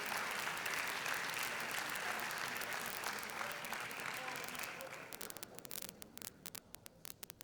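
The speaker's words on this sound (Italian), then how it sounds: "gli facciamo un altro applauso" A gala crowd applauds children on stage at a Veneto tennis event, a dense, loud sustained clapping that breaks up into scattered individual claps toward the end.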